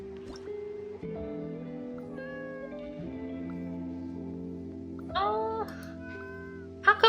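Soft, brief meows from a cat in the game Genshin Impact rise over sustained musical background tones, with a quick cluster of cries near the end.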